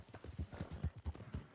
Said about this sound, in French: C'est un bon cheval.